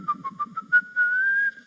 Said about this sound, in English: I like to whistle, yeah, when I play.